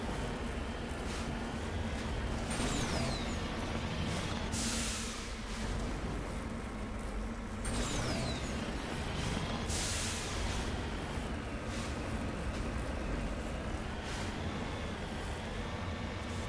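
Reckless in-game vehicle driving in Mass Effect 1: a steady engine and rolling rumble runs throughout, broken by several loud broadband crashes and thumps as the vehicle bounces and collides.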